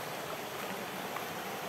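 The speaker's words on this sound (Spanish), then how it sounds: "cómo cae el agua de este lado." Water falling at the natural pools of El Atrancón, Michoacán, a dense, steady rushing roar like a small waterfall or fast stream, continuous and fairly close, with no talking.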